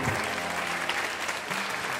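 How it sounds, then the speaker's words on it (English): An audience at an encore performance claps continuously, a dense, even wash of applause from start to finish. "where the claps at?"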